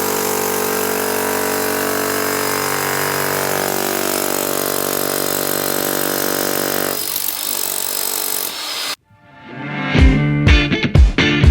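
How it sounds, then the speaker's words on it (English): A drill's steady, loud motor whine runs for about nine seconds, cuts out, then revs again in several short bursts. "that drill can drill some holes quick."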